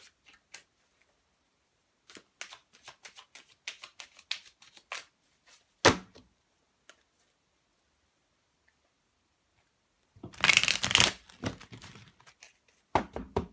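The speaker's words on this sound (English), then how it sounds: "Let's just shuffle these cards." Tarot cards riffle and flick in quick, crisp bursts, followed by a louder full shuffle and a few closing taps, close up with no talking.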